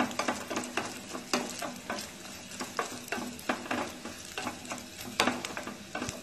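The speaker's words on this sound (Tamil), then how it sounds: "நெய்யில வந்துட்டு இந்த கோகனட் வந்துட்டு கொஞ்சம் ப்ரௌனிஷ் ஆகிற வரைக்கும் ஃப்ரை பண்ணிக்கலாம்" Coconut fries in ghee for kuzhi paniyaram, a quiet crackling sizzle cut by rapid rhythmic scrapes and taps of a spatula stirring the pan, close by with no voices.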